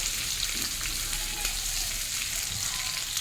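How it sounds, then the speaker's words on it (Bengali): Pumpkin, potato and pointed gourd fry steadily in hot oil in a pan, a continuous close sizzle with faint stirring, and no voices. "লো ফ্লেমে ভাজতে হবে, মাঝে মধ্যে নেড়ে দিতে হবে। আবারও ভালো করে নেড়ে দেবো আর ভাজতে থাকবো।"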